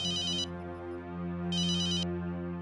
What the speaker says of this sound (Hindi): अरे किसका फोन बज रहा है, उठाओ ना यार